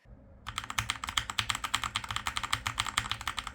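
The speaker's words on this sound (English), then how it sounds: "I have a mechanical keyboard, and when I'm typing away, that thing is loud." Rapid, steady clicking of a mechanical keyboard being typed on, close and fairly loud, with sharp keystrokes in a quick even rhythm.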